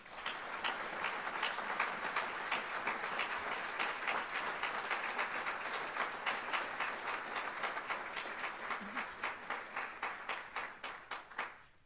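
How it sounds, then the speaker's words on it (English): Sustained crowd applause at a 2014 Georgetown College Athletics Hall of Fame induction ceremony, greeting inductee Susan Clemens; dense, steady clapping from a large audience that thins into separate claps near the end. "please give a big round of applause to 2014 Georgetown College Athletics Hall of Fame inductee, Susan Clemens."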